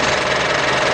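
A Mitsubishi Pajero Sport diesel engine runs at a steady idle, a dense, continuous mechanical hum and clatter heard up close with no talking.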